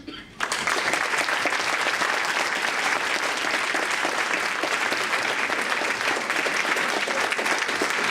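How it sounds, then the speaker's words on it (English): Audience applause during a vote at a formal debate on US intervention against ISIS, a dense, steady roar of many hands clapping that starts abruptly after a brief quiet moment and holds loud and even to the end. "All those who agree with the government's position, show it by your applause."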